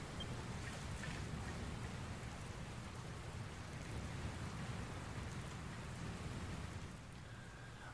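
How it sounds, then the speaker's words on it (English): Steady rain with a rolling storm in the Dragon Quest Builders 2 video game, a dense, constant hiss of falling drops with low rumbling underneath, easing slightly near the end. "Looks like there's another storm rolling in."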